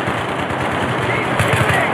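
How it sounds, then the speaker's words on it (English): Dense, continuous automatic gunfire from a shooter video game roars loud and close in a steady rattling stream, with shouted voices mixed underneath. "Keep shooting!"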